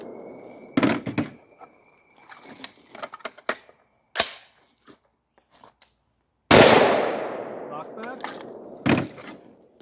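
An AR-15 with a broken firing pin and missing gas ring fires Tula ammunition, and the bolt locks back. A few loud, sharp reports with metallic clacks come through, separated by quiet gaps, and a voice is heard between the shots.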